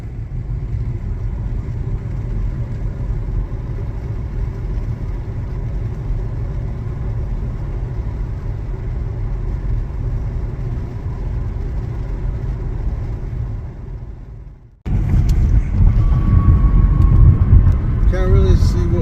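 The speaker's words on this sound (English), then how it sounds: "truck traffic is going through town." Trucks rumbling through a town, a continuous low engine drone that cuts off abruptly, followed by closer, louder traffic noise.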